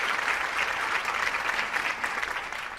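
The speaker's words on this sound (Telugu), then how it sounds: "చిన్న పిల్ల కోసం అందరూ చప్పట్లు కొట్టండి." An audience claps for a little girl at a televised show, steady dense applause that holds at an even level the whole time.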